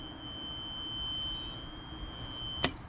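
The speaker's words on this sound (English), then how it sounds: "The audible alarm itself sounds okay, it is making noise." A septic system alarm buzzer drones a steady, high-pitched electronic tone continuously, then cuts off with a brief click near the end.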